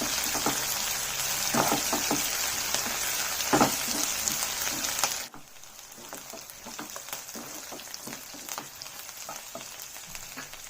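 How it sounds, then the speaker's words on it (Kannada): Three finely chopped green chillies fry in a pan with a close, busy sizzle and crackling pops, loud at first, then dropping suddenly to a quieter, steady frying hiss, with no talking. "ಚೆನ್ನಾಗಿ ಫ್ರೈ ಮಾಡ್ಕೊಳ್ಳೋಣ."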